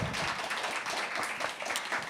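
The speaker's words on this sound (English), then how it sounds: "So let's get a round of applause for all of them." An audience at a panel discussion on labour and care in the cultural sector gives the panelists a round of applause, a modest, fairly quiet patter of clapping that runs steadily throughout.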